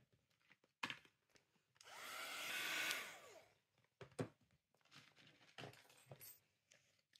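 A hair dryer drying paint on an art journal page, a single steady blowing whir of about a second and a half, close up between quiet handling clicks and rustles.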